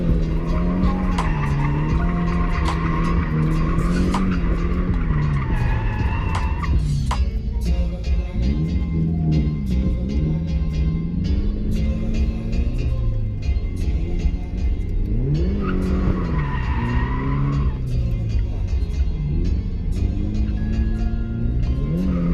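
A Subaru FRS drifts at a drift event, its engine droning and rising and falling with throttle while tires squeal and skid in long sweeps, loud and continuous.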